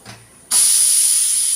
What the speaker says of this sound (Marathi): चला मी कुकर उघडून बघते